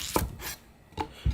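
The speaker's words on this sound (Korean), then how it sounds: "너무 얇게 썰지 말고요." A knife cuts a cucumber on a cutting board: three separate close chopping thuds, spaced irregularly, with quiet between them and no voices.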